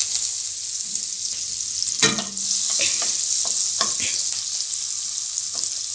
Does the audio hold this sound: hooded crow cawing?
no